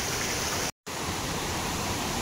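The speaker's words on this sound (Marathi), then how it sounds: "पाणी भरपूर वाहत आहे. तर समोर जाऊया. मस्त धबधबा आहे ना" A forest waterfall in Ratnagiri, Konkan, swollen with monsoon rainwater, pouring as a loud, steady roar that cuts to silence for an instant and then resumes.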